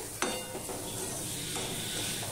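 Raw mango pieces stirred in a cooking pan with turmeric for a sour dal, a soft scraping stir with a low steady sizzle, opening with a sharp clink and no talk.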